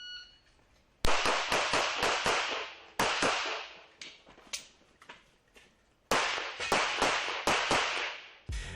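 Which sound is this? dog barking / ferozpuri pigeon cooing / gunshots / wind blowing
gunshots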